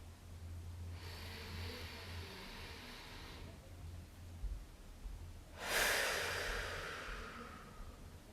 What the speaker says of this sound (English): Breathing through your nose, first to your belly